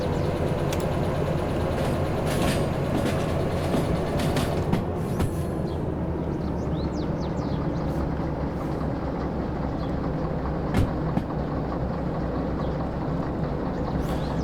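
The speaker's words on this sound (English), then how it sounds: "So that's like the middle part of the train now, pulled close to the main line." DE6 diesel locomotive pulling a train of freight cars in Derail Valley, a continuous low engine rumble with rolling rail noise and occasional clanks, steady and loud without talk.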